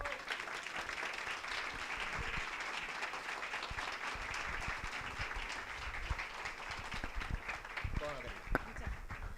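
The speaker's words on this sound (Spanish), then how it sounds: "Un tremendo, tremendo aplauso." Sustained applause from a crowd at a talk on the political analysis of sex education, steady dense clapping throughout with a few louder claps near the end and some voices mixed in.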